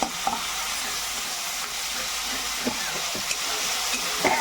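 Cumin and raw spice paste fry in oil for a boal fish curry, a bright steady sizzle close up, broken by a few stirring scrapes and knocks.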